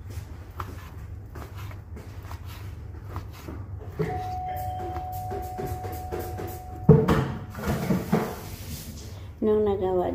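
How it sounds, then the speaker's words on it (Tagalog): A doorbell chimes in a home kitchen during brownie baking, a sustained ringing tone followed by a louder knock-like thud and clatter, with people talking throughout. "Mayroon ding nag-doorbell."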